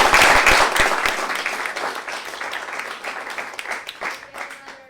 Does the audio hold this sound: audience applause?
yes